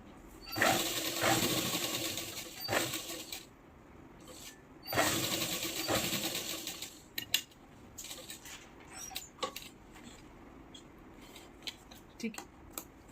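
A sewing machine runs a straight stitch along a folded sleeve, short whirring bursts of rapid needle clatter broken by pauses, sharp clicks and handling noises, close by, with someone talking between runs.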